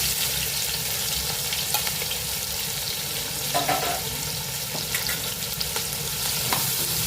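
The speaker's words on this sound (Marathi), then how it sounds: "ते आपण त्या तेलामध्ये मस्त परतून घेऊ कलर बदलतपर्यंत." Half a kilo of sliced onions with curry leaves fry in oil and get stirred, making a loud, continuous sizzle with scattered scraping clicks from the spoon and no speech.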